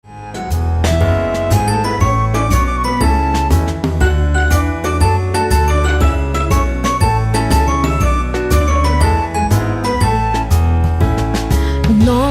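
A bright, bouncy children's song about the sun plays loudly with tinkling bell-like melody over a steady bass, cheerful and continuous without pause.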